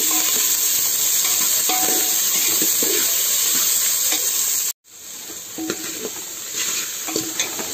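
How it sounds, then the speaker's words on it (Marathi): Onion, garlic and green chilli sizzle in a pan with frequent stirring scrapes, loud and close; the sound cuts out briefly midway, then resumes. "कांदो, लसूण आणि हरवी मिरची बरी अशी फ्राय करून घ्या."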